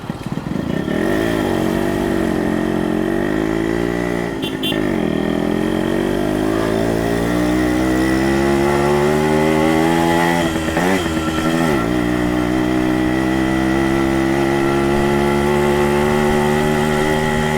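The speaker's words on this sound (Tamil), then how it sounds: "ஸோ கியர்லாம் டவுன் பண்ணி திருப்பி ரேவ் பண்ண அப்படியே ஏறிடும்" A Japanese 100cc two-stroke motorcycle engine revs loudly and close during a test ride, its pitch climbing and dipping through several rises with brief throttle breaks, a continuous buzzing two-stroke whine throughout.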